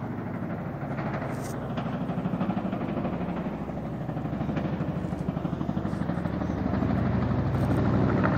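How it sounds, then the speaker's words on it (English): A helicopter drones steadily with a low rhythmic rotor chop, growing slightly louder as it approaches, with no voices. "I hear a nice helicopter coming"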